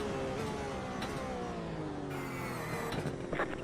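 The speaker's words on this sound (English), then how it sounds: "Group of faster cars approaching" Race car engines in a Sebring 12-hour endurance race in a racing game, a steady loud engine drone with rising and shifting tones as faster cars close in and pass.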